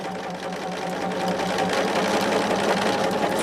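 Close and loud, a sewing machine stitches an eighth-inch line around a small bound quilt, its steady motor hum and fast needle rhythm building slightly in speed and holding continuously.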